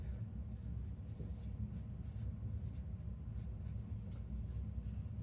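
Pencil shading steadily across paper while coloring in a cartoon capybara drawing, a continuous close scratchy rasp with quick repeated strokes and no talking.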